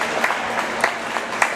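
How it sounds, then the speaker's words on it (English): A volleyball crowd claps steadily for a player, a dense patter of many hands at moderate loudness with a few sharper claps standing out. "as you can hear the crowd clapping for her"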